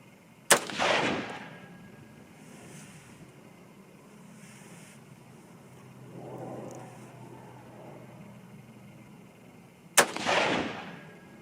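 A Grendel rifle fires two sharp, loud shots about nine seconds apart. Each crack rolls into a brief rumbling echo across an open range, with quiet ambient noise in between and no speech.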